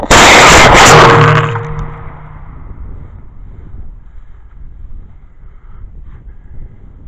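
Estes F50-6T composite-fuel model rocket motor fired on a static test clamped in a vise: a loud, roaring burst about a second long, then a quick fade into faint wind noise outdoors.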